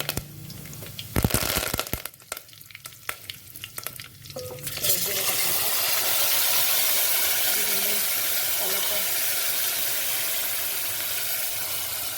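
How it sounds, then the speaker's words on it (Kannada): Mustard seeds and cumin hit hot oil with a few sharp clatters and crackles, then a loud, steady, close sizzle that holds continuously to the end. "ಬನ್ನಿ ಎಣ್ಣೆ ಕಾದಿದೆ, ಸಾಸಿವೆ ಜೀರಿಗೆ ಹಾಕೋಣ"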